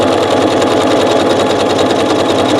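A sewing machine stitches a dense decorative stitch at a very short stitch length using variegated thread, running with a loud, steady rapid mechanical whirr and rhythmic needle clatter throughout.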